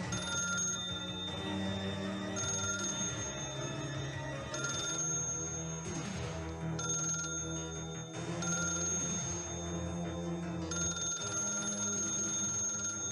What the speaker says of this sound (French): C'est le téléphone qui sonne plus.